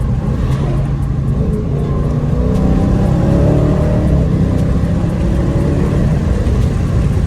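A Dodge Charger Scat Pack engine with a new exhaust drones and revs steadily during downshifts, with a whirring exhaust note rising and falling slightly under a constant road rumble.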